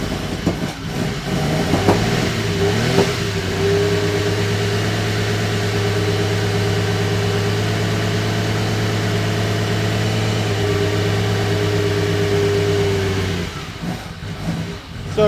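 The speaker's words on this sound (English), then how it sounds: "Now we're going to go ahead and fire this thing up." A 1967 Ferrari 275 GTB/4 engine cranks over and catches, then revs and settles into a loud, steady, close idle that holds for about ten seconds before dropping away.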